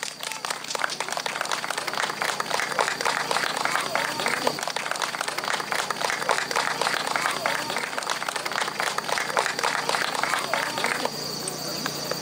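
Audience applause at an outdoor harvest-moon folk storytelling gathering welcoming storyteller Yoko Miyata, steady dense clapping sustained for several seconds, with insects chirping faintly behind it.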